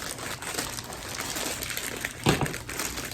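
Scissors cut through a soft plastic baby wipe package, a continuous crinkling and rustling of thin plastic close by, with one sharper crunch near the end.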